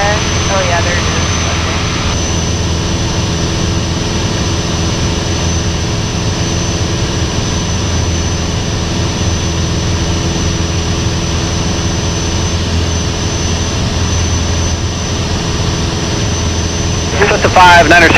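Cessna light aircraft engine drones steadily in flight, a loud continuous close hum from inside the cabin lasting the whole stretch, with radio chatter and voices heard over it.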